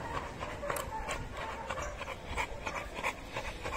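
A pit bull pants steadily after a long walk along a beach, quick rhythmic breaths close to the microphone with faint outdoor background.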